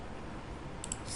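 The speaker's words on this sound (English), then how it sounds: "click on allow button" A computer mouse clicks on an allow button in SAP S/4HANA software: two quick, crisp clicks near the end, set against a faint, steady background hiss.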